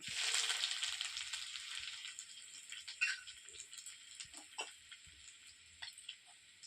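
Chopped ginger frying in a pan of oil for a vegetarian spinach paratha filling, a steady close sizzle with light crackles and small stirring rattles, no talk.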